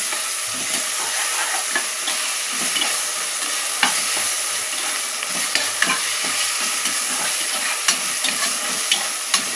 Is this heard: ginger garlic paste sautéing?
yes